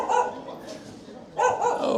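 Several dogs outside a restaurant on a street in Zhaoqing, China, at night bark in two short bursts, one at the start and another a moment later, fairly close amid faint background noise.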